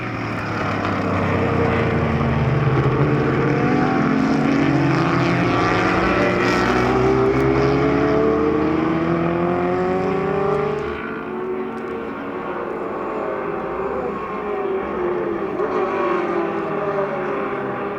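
A Ferrari 250 GTO's V12 engine screams loudly and continuously at the Sonoma Speed Festival, its pitch sweeping up and down through gear changes, then easing slightly toward the end.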